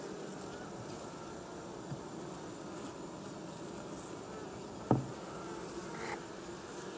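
Steady buzzing of bees from a hive left uninspected for three months fills the air, continuous and moderately loud, with a sharp tap and a faint rustle partway through.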